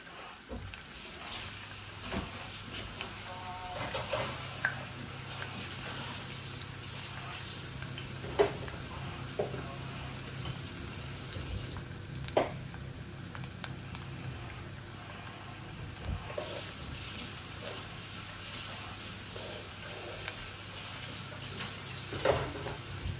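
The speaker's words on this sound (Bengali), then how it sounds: "আর ওই রসুনটা লাল হোক, তারপরে দিব পেঁয়াজ।" Small garlic cloves and cinnamon frying in oil, a quiet, steady sizzle with scattered clicks and clinks of a utensil against the pot, fairly faint and continuous.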